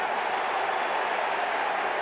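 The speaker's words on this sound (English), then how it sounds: "Crowd starting to find voice again." Steady roar of a stadium crowd at an AFL match between Sydney and Port Adelaide, a broad continuous wash of voices building in volume without any clear peaks.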